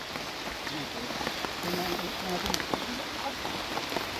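Rain falls steadily on a rural coconut farm, a soft continuous patter heard under a voice.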